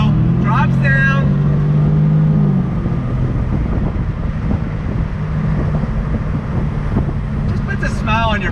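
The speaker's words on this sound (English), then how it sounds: "Pulling away, you can hear that exhaust note a little bit more." A 2021 Jaguar F-Type convertible pulls away with its top down, the exhaust note a steady low drone that swells briefly and then levels off, with wind noise over it.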